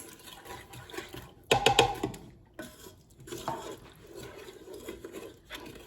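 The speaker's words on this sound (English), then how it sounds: "Then I'm gonna add in my 1 cup of milk while I'm stirring, like so." Milk is stirred into a tuna bake sauce of onions, butter and garlic in a pan. Soft wet sloshing comes with a burst of quick clattering strokes, then lighter intermittent stirring, close and fairly quiet.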